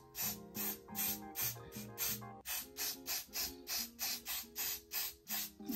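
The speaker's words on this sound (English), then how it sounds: "Put on the wig cap, and I need to spray this bad boy." A spray can hisses onto a wig cap in a rapid series of short, regular bursts, about a dozen puffs. The sound is fairly faint over a soft tonal background.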